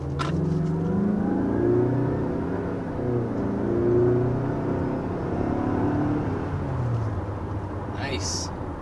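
2023 Mazda CX-5 with the 2.5-litre turbocharged four-cylinder accelerating, a steady engine drone with climbing and shifting tones heard from inside the cabin, fairly loud throughout.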